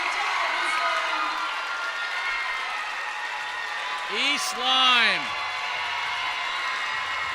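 A large crowd cheers and applauds at a cheerleading championship, a steady, dense roar of claps and shouts filling the arena while a commentator talks over it, with a couple of brief louder whoops rising near the end.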